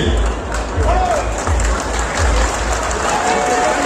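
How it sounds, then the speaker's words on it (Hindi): Crowd applause at a large village assembly in Faridabad, steady clapping from many hands with voices mixed in, loud and continuous throughout. "अगर ताली बजाओ तो ढंग से बजाओ,"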